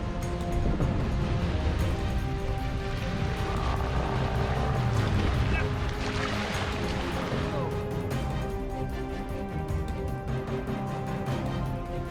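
A sailboat motors over flat sea on its engine in calm wind off Mayotte, a steady low hum running the whole time beneath faint wind and water noise.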